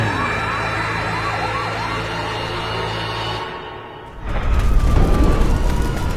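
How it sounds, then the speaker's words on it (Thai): A fire engine's wailing siren sweeps up and down over a loud engine rumble, then cuts out briefly before a heavy roaring drive-off with the siren continuing faintly. "ก่อนที่รถดับเพลิงจะแล่นออกไปยังที่เกิดเหตุทันที"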